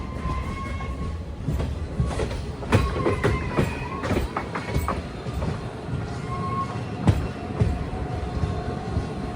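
A train with its locomotive rumbles along at New Jalpaiguri railway station in Siliguri, with clanks, metallic squeals and rattling of rail cars, fairly close and continuous.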